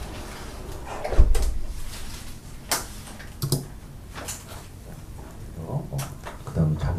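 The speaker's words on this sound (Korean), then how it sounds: "자 이제 창문을 닫고" A window is shut indoors with a clattering knock, followed by a few softer bumps and taps against a low room hiss.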